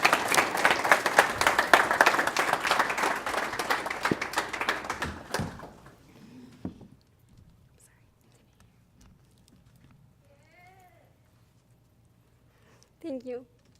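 Audience applause at a 2016 academy graduation ceremony, dense clapping for about five seconds that tapers off into near silence, with faint murmurs and a brief voice at the end.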